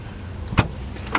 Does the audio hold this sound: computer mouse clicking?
no